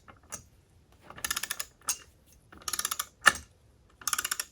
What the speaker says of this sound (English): once it gets to 55 pounds, the torque wrench itself will make a clicking sound